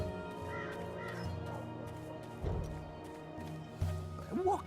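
Crow cawing in the video game Dreamfall Chapters, a few harsh caws rising above a low ambient drone, with brief game voices and movement sounds.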